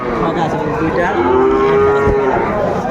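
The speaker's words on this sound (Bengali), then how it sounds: "এই দুটা ষাঁড় বাচ্চা ষাঁড় বাচ্চা" A young bull calf lets out a loud, close, drawn-out moo that rises and holds, with no other voices around, at a cattle market in Dinajpur, Bangladesh.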